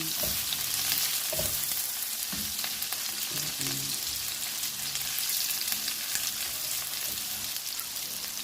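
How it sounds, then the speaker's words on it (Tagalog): Onions sauté in hot oil for a chicken curry, giving a dense, continuous close-up sizzle. A spoon stirs and scrapes the pan now and then with soft knocks as the onions cook toward brown. "Haluin natin yan hanggang maging brown."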